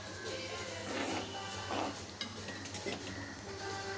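Rice semolina, moong dal and water being stirred together in a cooking pot, with a steady scraping and swishing of the spoon against the pot and a few brief knocks, close and continuous.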